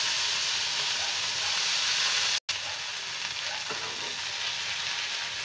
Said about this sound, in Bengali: টমেটোটা একটু ফ্রাই করে নিয়ে